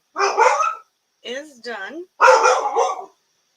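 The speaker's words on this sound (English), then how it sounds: "That's my dog." A female pet dog barks in short bursts indoors near a mixed-media painting workspace, with a few whiny yelps between the barks and a person speaking nearby.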